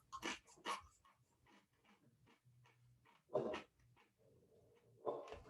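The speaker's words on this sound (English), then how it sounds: "Don't mind my dog." A dog whimpers and whines nearby in a quiet room, a few soft yelps and a longer whine scattered over several seconds, faint and with no talk.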